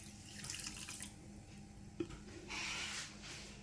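Water is poured into a large frying pan holding sugar, a soft rushing pour rising toward the end of a quiet clip, with a single small clink from the pan midway.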